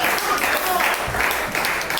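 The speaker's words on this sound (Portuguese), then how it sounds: "Palmas logo ao Senhor." Congregation clapping in a church service, a dense, continuous burst of many hands for about two seconds with voices mixed in.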